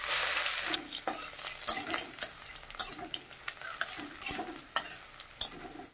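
Garlic, dried red chilli and black cumin hitting hot mustard oil in a kadai: a bright sizzle at first, then repeated scraping stir strokes over a lower frying hiss.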